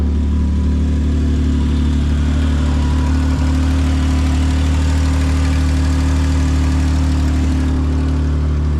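A car engine idles steadily in a garage, a loud, constant low rumble with no talking and no change in revs throughout.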